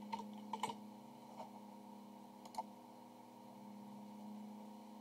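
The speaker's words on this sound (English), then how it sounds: "Just make sure I don't make any typos typing with one hand." Someone types one-handed on a computer keyboard, a few sparse, faint key clicks in small clusters over a steady electrical hum.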